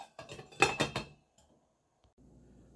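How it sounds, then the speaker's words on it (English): A lid set onto a cooking pot to simmer: a quick burst of close metallic clinks and rattles, then a brief knock and near silence with faint background hum. "I'm going to cover them and let them simmer for 30 minutes"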